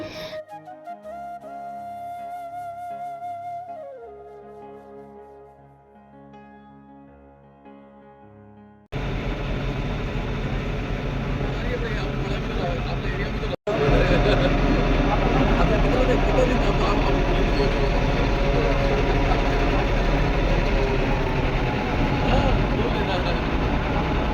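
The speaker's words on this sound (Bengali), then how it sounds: "লঞ্চ না এটা?" A launch ferry crossing the Ganges near Serampore, its engine a steady loud drone that starts abruptly partway through and continues without a break after a quieter opening stretch.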